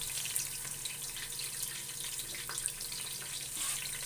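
A glass of water is poured into a jug of gram flour, a steady soft hiss of running liquid lasting a few seconds, faint and even without talk.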